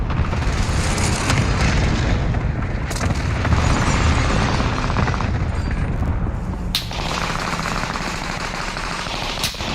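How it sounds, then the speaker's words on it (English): A precision airstrike in Call of Duty Warzone pounds the area with loud, rolling explosions and heavy rumble, layered with gunfire crackle and sharp impacts. "Allied precision airstrike incoming."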